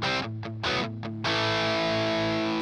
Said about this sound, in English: So now I'm on distortion.